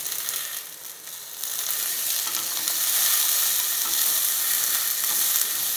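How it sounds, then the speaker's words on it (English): Potatoes go into a hot pan of sizzling cumin, and the frying hiss swells to a loud, steady crackle that continues throughout, with faint scraping in the background. "And then I'm also going to add aloo."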